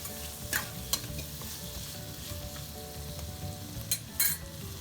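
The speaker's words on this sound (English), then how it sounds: "Let it fry for some more minutes" Pumpkin pieces sizzle steadily in a hot pan, with occasional scraping clicks from stirring and no voices.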